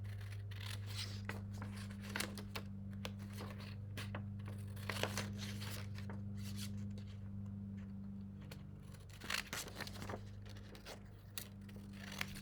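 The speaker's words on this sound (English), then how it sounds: "I'm going to go ahead and cut out my caterpillar." Scissors snipping out a paper caterpillar for a craft, a soft irregular run of cuts and paper rustles over a steady low hum, close but faint, with no talking.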